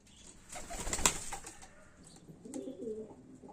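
Young pigeons being given away as gift birds coo in soft, low, repeated bursts close by, with a brief flutter of activity near the start and quieter cooing toward the end.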